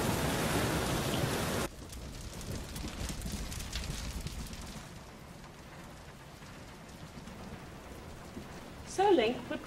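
Rain in The Legend of Zelda, falling at a moderate steady patter that grows quieter partway through, with a person speaking briefly near the end.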